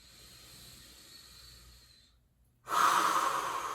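Deep breathing while standing tall in yoga mountain pose, a soft slow exhale fading to near silence, then a loud close breathy inhale or exhale rushing in.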